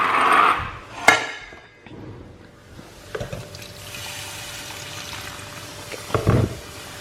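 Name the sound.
water poured into pan with sugar for mango pickle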